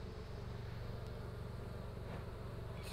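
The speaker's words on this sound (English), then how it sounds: "I'm going to try not to walk over all these bees that are falling down" Honeybees buzzing around an opened backyard hive, a steady low droning hum that stays constant and fairly close with no talking.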